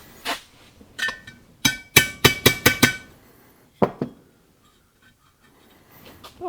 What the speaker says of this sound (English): I'll grab a hammer and we'll give that hammer and a punch. We'll give that a little tap.